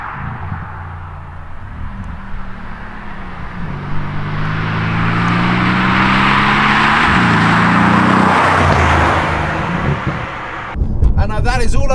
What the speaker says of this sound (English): You have this incredible rumble that is unrivaled amongst any other manufacturer.